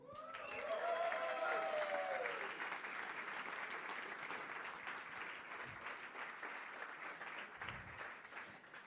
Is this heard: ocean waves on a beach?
no